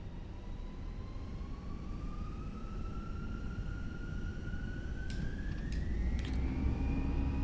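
Airliner engines spooling up for takeoff from KJFK in a flight simulator, a steady rumbling roar with a rising whine that climbs in pitch, a few faint clicks near the end, moderately quiet.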